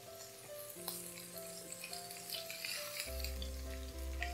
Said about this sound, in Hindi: अब इसमें हम डाल देंगे करी पत्ते।